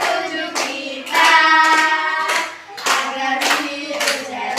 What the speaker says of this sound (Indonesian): Sambil tepuk tangan ya